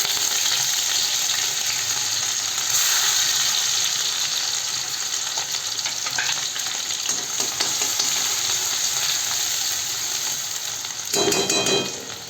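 Onion frying in hot oil in a home kitchen pan, giving a loud, constant close-up crackling sizzle with a few clinks and a brief rattling bump near the end, no talking.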